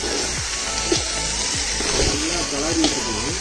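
Cut goat lung meat hitting hot oil in a pan on a village cooking fire, a steady hiss and crackle of sizzling with clinks of a ladle under a voice talking.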